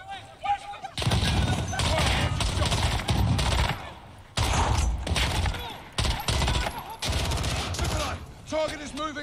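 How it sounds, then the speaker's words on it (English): Loud, dense gunfire from Call of Duty: Modern Warfare (2019) during a hardened-difficulty campaign mission, with sustained bursts of automatic fire broken by short pauses, and voices talking between the volleys. "The gunshots, of course."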